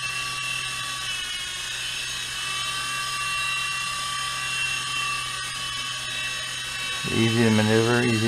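A small GP Toys G610 3.5-channel infrared toy helicopter's rotor whines steadily with mechanical buzzing, then the pitch shifts and warbles near the end as the throttle changes.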